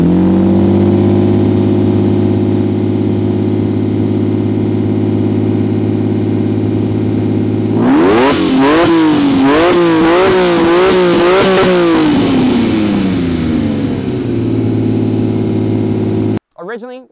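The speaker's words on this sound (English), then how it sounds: "I added on Quicksilver exhaust and headers, so it's much, much louder than a stock Countach." Lamborghini Countach Quattrovalvole V12 fitted with Quicksilver exhaust and headers, loud and close: a steady deep idle, then about eight seconds of rapid repeated revs rising and falling before settling back to idle and cutting off.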